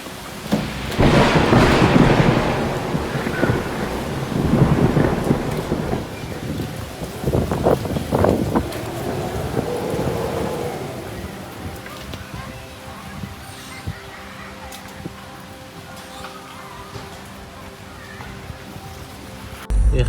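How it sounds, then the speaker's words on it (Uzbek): A dust-laden storm in Tashkent roars with strong, gusting wind, rumbling thunder and rain, loud and close at first, then easing to a steadier, quieter wash of rain and wind, with voices heard through it. "Buni qaranglar. Qum bo'roni. Ko'rinmayapti."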